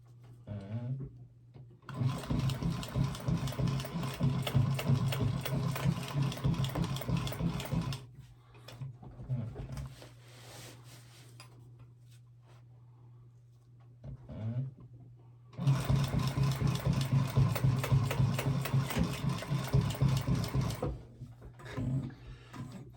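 Sewing machine stitching heavy material for a RZR Magnum Pak build, two long bursts of fast, steady mechanical whirring and thumping separated by quiet pauses with faint handling sounds, close and loud, no speech.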